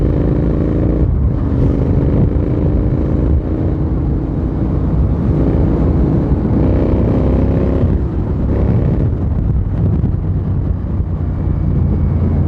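A GT650 motorcycle engine with a changed, rough note drones loudly and steadily while riding near Tirupati, with rising and falling pitch as it accelerates and heavy wind rush over the microphone.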